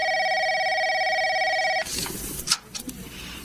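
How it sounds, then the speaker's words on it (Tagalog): A telephone rings with a steady electronic trill for nearly two seconds, loud and close, then cuts off into rustling handling noise. "Nagre-ring yung telepono natin."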